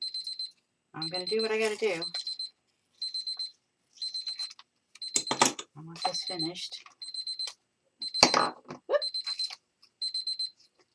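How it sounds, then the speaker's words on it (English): A timer alarm beeps in rapid repeated bursts of high electronic tones, sounding on and off throughout while a person talks over it. "There goes my timer."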